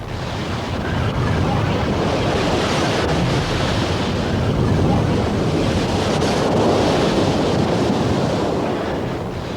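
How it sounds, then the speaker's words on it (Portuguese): Strong winter ocean waves surge and crash along the rocky Big Sur coast, a loud, continuous roar of surf with heavy wind buffeting the microphone throughout. "o tempo ruim e as fortes ondas do inverno nas costas de Big Sur"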